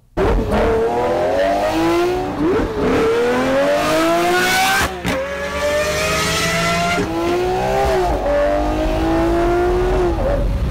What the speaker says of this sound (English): Best sounding supercar. The Lamborghini Murcielago.